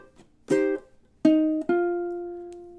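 A ukulele measure of staccato muted strums, a few sharp plucked chords with short ringing notes, close and clear with no talking.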